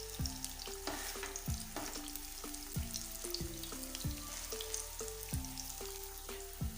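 Beef chapli kabab frying on low heat in a pan with tomato slices on top, a constant close crackling sizzle with faint spattering, no talking.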